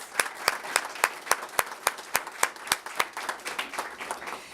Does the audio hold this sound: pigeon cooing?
no